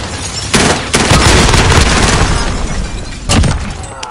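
A thermite grenade bursts with a heavy boom in a shooter game, followed by sustained crackling fire and a second sharp blast near the end, loud and close.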